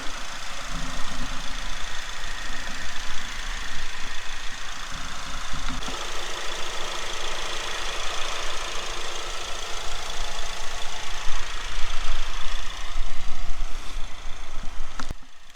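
A 2021 Ford Mustang convertible's 2.3 liter turbocharged four-cylinder engine idles steadily under an open hood, a close, even hum that lifts slightly toward the end, with no talk.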